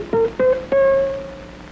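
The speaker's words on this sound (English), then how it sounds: "A sort of muffled sound can be made by first damping the strings with the side of the right hand." Three short, damped guitar notes plucked one after another with the strings muted by the side of the right hand, each thud-like attack dying quickly, the last ringing slightly longer, close and alone in a quiet room.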